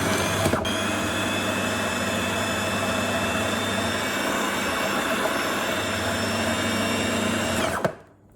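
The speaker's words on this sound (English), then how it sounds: "we're just going to pulse it until we get a rice-like consistency" A food processor runs steadily, whirring loud and close as it breaks cauliflower down into rice-sized bits, with a click near the start, a sharp stop near the end and a quiet tail afterward.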